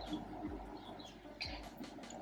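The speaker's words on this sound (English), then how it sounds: "The birds are returning one by one," Birds returning in spring call faintly outdoors along a dock by the waterways, giving a few soft coos and chirps over a quiet, steady background.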